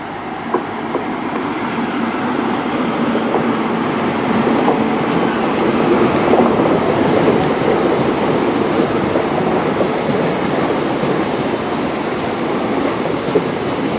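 Locomotive-hauled train 43195 pulling into Plymouth station, a steady broadband rumble of wheels and engine holding for the whole stretch, swelling slightly midway, with faint clicks of rail joints and no talk.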